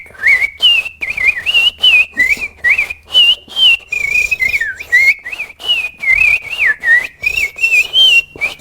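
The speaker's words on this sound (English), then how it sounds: "the black-headed grosbeak, which sounds sort of like a robin, but a robin on steroids, which means it just sings and sings and sings" Black-headed grosbeak singing a long, rich, robin-like song of rapid warbled phrases that rise and fall, with short gaps between bursts, close and clear with no voices.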